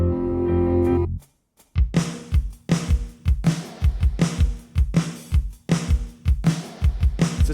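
A tight-groove drum beat from a Logic software drum kit enters after a brief held tone and a short gap, then pounds out crisp, evenly spaced kick and snare hits in a steady, loud pattern.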